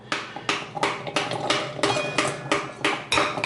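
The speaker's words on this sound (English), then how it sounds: "just kind of beat the crap out of it with a spoon" A metal spoon beats the back of a halved pomegranate held loosely in the hand, landing about nine sharp, close knocks in an even rhythm to shake the seeds loose, with no talk over them.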